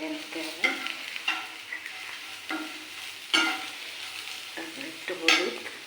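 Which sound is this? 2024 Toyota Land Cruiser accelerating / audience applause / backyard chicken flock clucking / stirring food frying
stirring food frying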